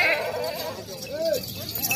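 Large, heavy Makhi Cheeni milking goat with two kids giving a short bleat, heard mid-clip over someone talking and background noise.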